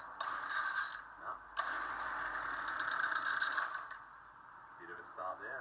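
A second-hand whipper snipper with the choke on rattles through a pull-start and briefly sputters, a faint mechanical clatter with short bursts that fade away.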